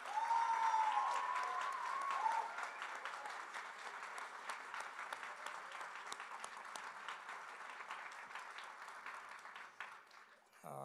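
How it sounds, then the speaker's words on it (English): A concert audience applauds a big band steadily for several seconds, the dense clapping slowly thinning toward the end, heard from a moderate distance. "so put your hands together for the big band"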